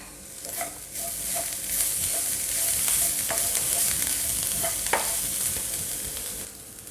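Spiced chicken roll filling sautéed in a pan, a steady close sizzle with repeated stirring scrapes and clicks throughout, no talking.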